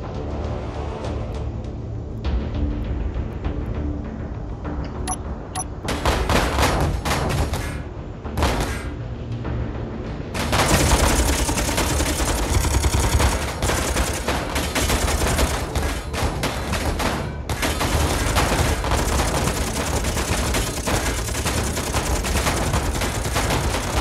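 Gatling guns in Space Engineers firing in long, rapid bursts of dense rattling gunfire, starting sparse and intermittent, then roaring almost continuously with short pauses, loud and close with no talk.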